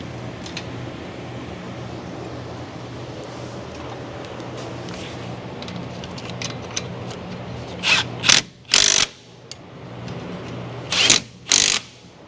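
A ball joint press on a 2002 Ford Explorer with the 4.6 engine, worked dry without lubricant, gives a steady mechanical grind, then several loud sharp ratcheting bursts near the end, close and alone.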